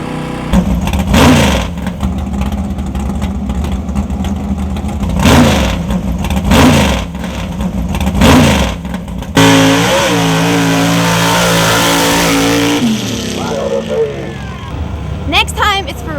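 A race car engine revs at a 100-foot drag strip. It gives several loud, rising blips in a steady rhythm, then a long sustained roar that cuts off into quieter idling.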